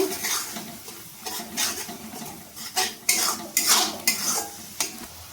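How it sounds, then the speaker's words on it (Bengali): Ginger, garlic and green chilli paste is stirred in a pan for masala chicken. A metal spoon scrapes and clinks against the pan in irregular strokes over a faint sizzle, close up and with no voices. "আমি মশলাটা ভালোভাবে কষিয়ে নেব"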